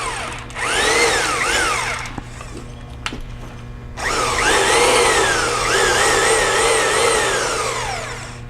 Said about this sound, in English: So now we're actually just going to be using the direction of the drill to engage those speeds.